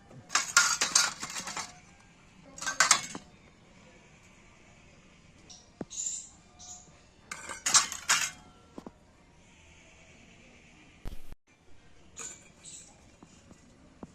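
A bowl is greased with mustard oil for steamed hilsa fish bhapa, and it clinks and scrapes in several short bursts separated by quiet gaps. There are faint light knocks between the bursts.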